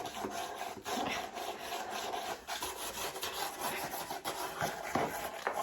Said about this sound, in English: I'm just going to use some sandpaper here everywhere.